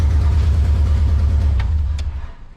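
A Subaru car engine idles steadily with a deep rumble, a rough puffing edge from a leaking exhaust gasket, and a couple of faint ticks near the end.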